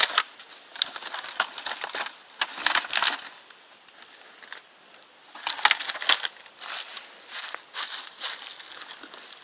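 Discarded litter such as cigarette butts and groundbait packaging at a fishing spot is stuffed into a plastic bag, giving close, uneven bursts of crinkling and crushing plastic over several seconds.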